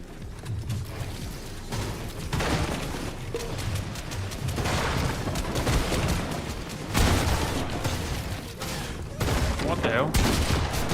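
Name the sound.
gunfire in a video game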